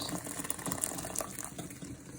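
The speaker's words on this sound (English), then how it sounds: "I'm gonna add in my hot water that I boiled." Hot water pours steadily into a pot of Ghanaian peanut butter soup with goat meat and bay leaves, a soft continuous splashing gush that stays fairly quiet throughout.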